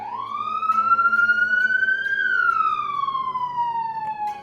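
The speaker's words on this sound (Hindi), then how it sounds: "बैकग्राउंड में पुलिस सायरन की आवाज़ सुनाई देती है" A single siren slowly rises and then falls in a long sweeping wail, steady and fairly loud, with no voices.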